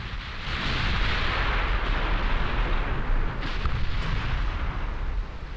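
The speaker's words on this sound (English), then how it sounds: "We do have secondaries firing" Naval secondary guns fire in the warship game Ultimate Admiral Dreadnoughts, a dense, loud rumble of overlapping booms blending into continuous roaring battle noise without any speech.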